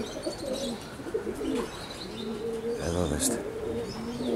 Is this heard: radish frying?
no